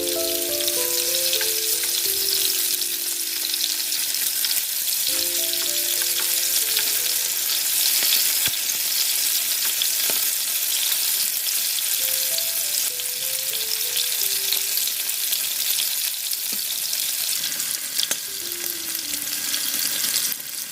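Prawns for Prawn 65 fry in hot oil in a pan, a loud, dense, continuous crackle and sizzle that holds steady throughout, with a few brief tonal chimes over it.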